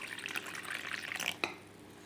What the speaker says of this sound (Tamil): கொஞ்சமாக நம்ம தண்ணி சேர்த்துக்கலாம்.